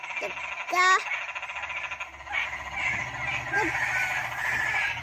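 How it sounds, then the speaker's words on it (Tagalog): Frogs croak in a steady outdoor chorus in the morning in Panabo, with brief chirpy calls rising above the din and voices talking faintly in the background. "Sobrang ingay, sobrang dami ng what? palaka sa labasan."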